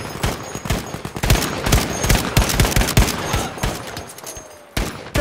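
Rapid gunfire in the shooter game Battlefield 5, with bursts of automatic shots and sharp single cracks following closely one after another, loud and near, ending in a brief pause and a final shot.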